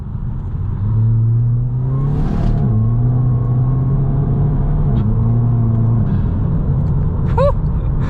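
A Volkswagen Scirocco accelerates onto a wet motorway, its engine note rising through the gears under steady road and tyre rumble, close and continuous.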